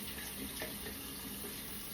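Cold tap water runs steadily in a sink while hair colour is rinsed out, a continuous close hiss with no voices.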